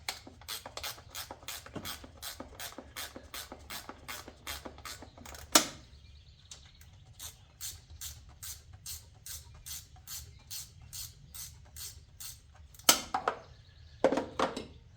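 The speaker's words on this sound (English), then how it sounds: "I'm just going to go ahead and take a wrench and get those pulled out" A ratcheting wrench clicks in steady, evenly spaced strokes as it backs out 3/8 bolts from a Briggs and Stratton starter cover, with short pauses and a few louder metallic clanks between runs.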